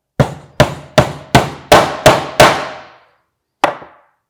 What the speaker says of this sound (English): Let's go ahead and knock that nail in.